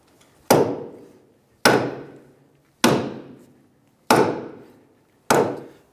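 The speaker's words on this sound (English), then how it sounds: "after hitting it and using the air hammer, working it left and right and pushing it outwards, it should be ready to remove" Five heavy metallic impacts at roughly one-second intervals ring out loud and close as an air hammer strikes a rusted, seized rear wheel bearing in the knuckle of a 2003-2011 Honda Element, each blow decaying quickly into silence.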